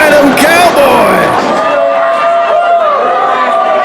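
Loud wrestling arena crowd cheering, whooping and yelling throughout, a dense roar of many voices with excited shouts rising over the steady din.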